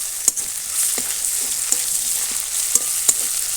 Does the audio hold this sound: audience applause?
no